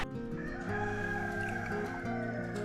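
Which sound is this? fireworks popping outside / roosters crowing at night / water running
roosters crowing at night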